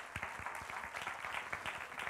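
Church congregation at Omega Church applauding: scattered, individually audible claps forming a faint, light patter throughout, with no talking.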